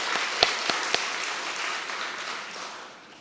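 Congregation applause during a Korean church men's mission society dedication service, a broad wash of clapping with a few sharp near claps at the start, fading slightly toward the end.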